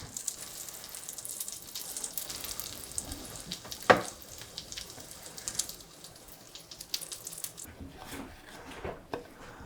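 French toast sizzling in a frying pan after being flipped, a steady soft crackle with faint clinks and a sharp scrape near the middle.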